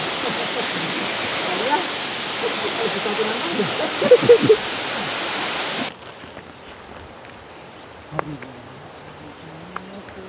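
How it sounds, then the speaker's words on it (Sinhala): Waterfall at Meemure, a loud, dense rush of falling water filling the first six seconds before cutting to a quieter outdoor scene with faint voices and a few brief sounds. "ඉතින් මේක හරි ලස්සන සුන්දර දිය ඇල්ලක්."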